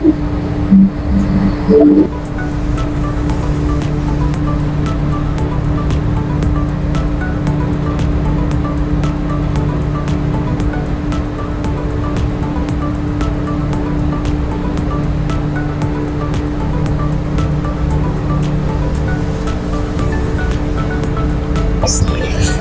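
Small fishing boat motoring over ocean waves off Agadir, Morocco, with a constant engine drone and humming tones under steady wash of water and wind, some brief sounds near the start.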